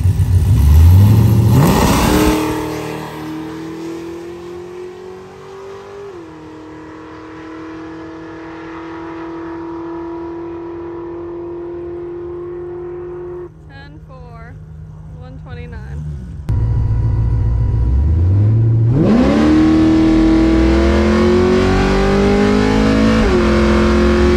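A drag racing car at the line, idling and revving, then launching hard with a trans brake in one loud, rising engine roar. People talk over the engine noise at times.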